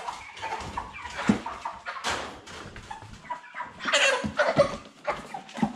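Cobb 500 broiler chickens, about 40 days old, clucking and squawking in bursts while being handled and weighed from a cage, with scuffling and flapping close by.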